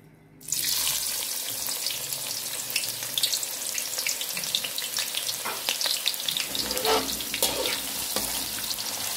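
Chopped onions, two medium ones, hitting hot oil for chana rice, a sudden loud sizzle that starts at once and keeps crackling and bubbling steadily, close and with no talk.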